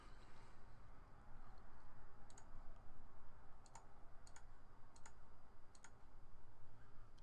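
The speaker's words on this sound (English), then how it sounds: "Click the CAPTCHA." Computer mouse clicking a CAPTCHA checkbox on a web sign-up page, several sharp, light clicks spaced irregularly over a faint constant hiss.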